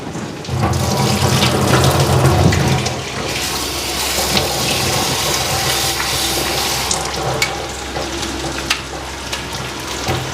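A kitchen tap runs water continuously while cut potatoes are washed in a sink, a loud, close, steady rush with faint splashing.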